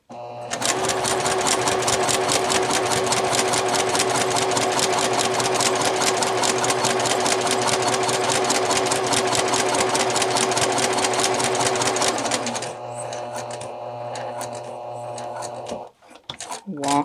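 A sewing machine stitches steadily into the corner of a Velcro faux-button closure, a fast even mechanical whir for about twelve seconds, then stops, followed by quieter handling sounds and some talk.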